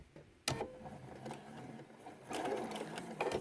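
A sewing machine stitches quilt binding close by, running in steady mechanical bursts with a rapid ticking needle rhythm, briefly easing off before speeding up again.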